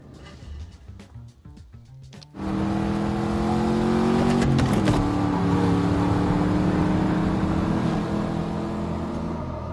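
A race car engine in a film scene starts quietly, then roars up loud and close into a sustained, rising rev that holds steady before easing slightly, with no talk.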